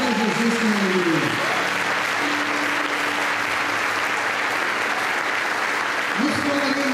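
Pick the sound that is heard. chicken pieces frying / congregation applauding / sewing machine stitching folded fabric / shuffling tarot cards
congregation applauding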